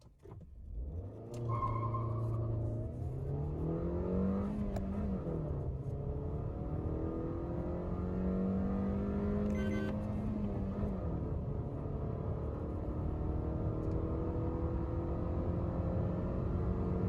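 A Maruti Suzuki Ciaz sedan runs flat out from standstill to 100 km/h, its engine note climbing steadily through the gears with brief dips at each shift, a sustained interior drone and road rumble throughout.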